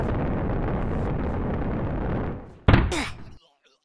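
Firecrackers go off in a Roblox weapon-fighting game: a long rumbling blast fades out, then a sharp, loud crack bursts and quickly dies away into silence.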